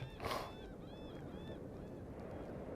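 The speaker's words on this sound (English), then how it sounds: "Some noisy seagulls out there." Gulls call faintly in the distance, a few squawking cries over a steady outdoor background hiss.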